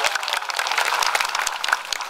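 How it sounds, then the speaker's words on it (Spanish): A crowd applauds, dense continuous clapping filling the space at moderate volume. "¡Aplauso!"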